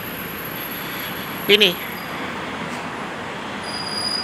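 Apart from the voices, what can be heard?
elevated railway train at Soekarno-Hatta airport station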